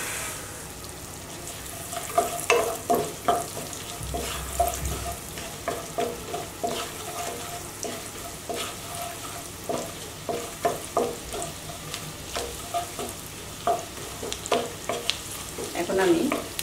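Chopped garlic frying lightly in a pan while egg vegetable fried rice is cooked, a steady soft sizzle broken by repeated scraping stirs and clinks of a spatula, close and continuous with no talk.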